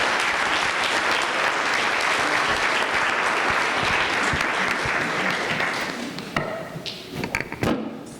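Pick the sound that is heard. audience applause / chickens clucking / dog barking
audience applause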